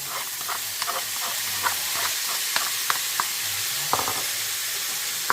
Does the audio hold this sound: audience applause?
no